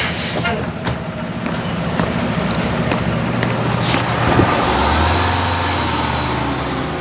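A bus engine rumbles amid passing road traffic in a radio advert, a loud steady drone with a deepening low growl near the end, and no voices over it.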